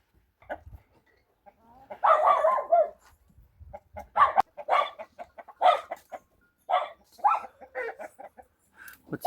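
Hens about five or six years old cluck close by in short, irregular bursts, their throaty calls rising and falling with brief quiet gaps between them.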